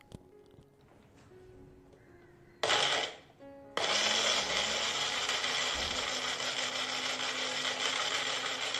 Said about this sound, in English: Close the blender and blend them to a smooth paste.